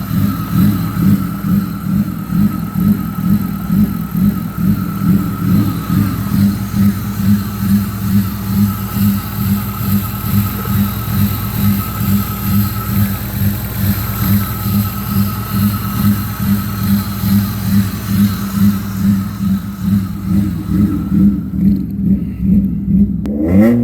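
A BMW E36 3 Series with a five-speed manual gearbox idles roughly up close, its engine giving a steady, loud, lumpy pulsing rumble throughout that never settles into a smooth idle.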